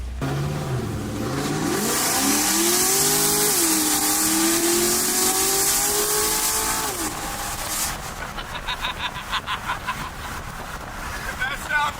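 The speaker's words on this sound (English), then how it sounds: "This thing sounds like a Z06." Loud car engine revving hard with a deep, aggressive exhaust note like a Corvette Z06, pitch sweeping up and holding, then dropping to a throbbing idle with crackles; a voice talks over it.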